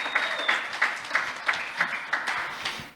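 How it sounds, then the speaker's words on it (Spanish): Sparse, rhythmic clapping from a small group at a church service, a few distinct hand claps repeating roughly every third of a second, fairly close and fading at the end. "Puedes darle un aplauso ahí en tu lugar donde estés."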